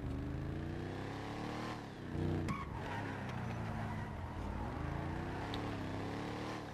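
A fast car in GTA Online roars through a corner at steady engine pitch, with a short tire squeal and skid near the middle before the engine drone carries on, fairly quiet.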